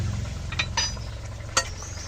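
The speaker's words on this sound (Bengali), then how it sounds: "এখন আমি জিরার গুঁড়ো দিয়ে ভালো করে মিশিয়ে নেব" A spoon stirs a thin Bengali rohu fish curry with potato, eggplant and drumstick just after roasted cumin powder goes in, giving a low simmering bubble and a few light scraping clinks against the pot, up close and without talk.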